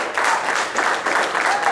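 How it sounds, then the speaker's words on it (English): A room full of people at a youth summit applauds, a steady wash of clapping with no voices standing out. "Can y'all give him a hand of applause today?"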